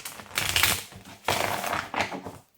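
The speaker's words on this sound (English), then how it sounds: "one more good shuffle" A deck of cards is riffle-shuffled close up, giving three loud, rapid fluttering bursts of ticking card snaps with short pauses between them and no talking.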